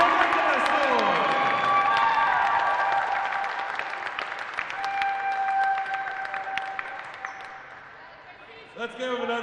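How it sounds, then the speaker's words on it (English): A crowd at a college volleyball championship match applauds and cheers for the Chemeketa Storm team, with sustained clapping and a few shouts and tonal sounds ringing over it before it dies down. "Let's give them another round of applause, folks."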